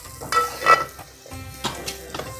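Masala with a pinch of salt roasts in a pan for stuffed ridge gourd, with a few dry spatula scrapes and stirring bursts over a low sizzle, fairly close and without talk.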